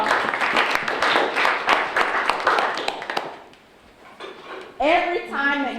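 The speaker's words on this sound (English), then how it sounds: "Okay, y'all, give them a round of applause." Audience clapping at a networking talk, a brief burst of applause that fades out, with voices coming in afterward.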